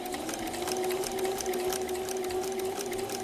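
A sewing machine stitches dirndl fabric over pins in a fast, steady, close mechanical hum with a rapid needle rattle, heard alone for a few seconds.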